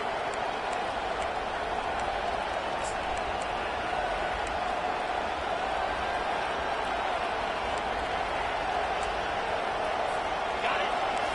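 A football stadium crowd roars steadily throughout, a broad, continuous wash of noise during a tense defensive third down, with the cheering swelling slightly near the end and no clear speech.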